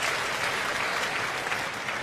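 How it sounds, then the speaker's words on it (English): Audience at a 2014 Coral UK Open darts quarter-final applauding gently, a steady even patter of many hands filling the hall with no break. "Applauded gently by the audience"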